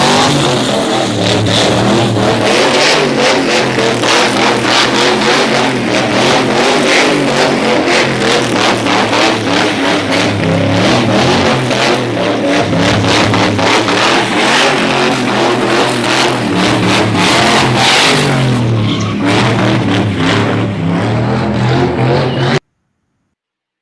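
A car engine revs hard and repeatedly in a played-back clip, loud and close, with rising and falling accelerating bursts that continue almost without pause until they cut off abruptly.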